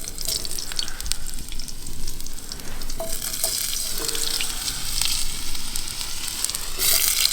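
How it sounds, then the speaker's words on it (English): Thick-cut chips frying in a pan over a campfire in winter, a steady crackling sizzle with occasional stirring scrapes, close and continuous, no voices. "I'm just going to cook some chips in a minute"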